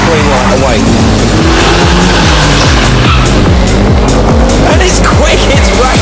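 A race car launches hard from the start line at the RTOC National Day 2004 meet, its engine roaring loud and close through rising revs and gear changes, with tyres squealing and a voice talking over it.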